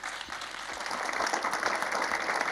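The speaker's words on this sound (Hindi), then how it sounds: "एक बार तालियों से उनका स्वागत करें" A comedy show audience breaks into steady, dense applause to welcome a poet onto the stage, the clapping filling the hall evenly and loudly with no voices over it.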